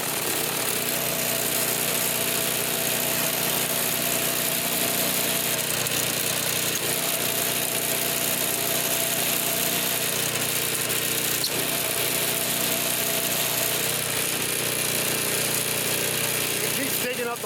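A Toro Power Clear 621 snow thrower with a 163cc OHV four-cycle engine runs steadily outdoors, a loud, continuous mechanical drone, with people talking over it.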